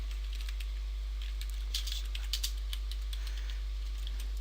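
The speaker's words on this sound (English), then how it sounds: "Now let's type something in." Light keystrokes on a computer keyboard while entering text into a word processor, as a short run of quiet clicks over a steady low hum.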